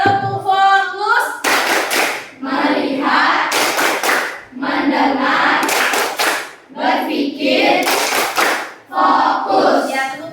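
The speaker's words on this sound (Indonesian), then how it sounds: "2, 3. Tepuk fokus." Children in an Indonesian primary classroom chant together while clapping a rhythmic focus clap, sharp bursts of group hand claps alternating with short spoken phrases in a steady, loud pattern.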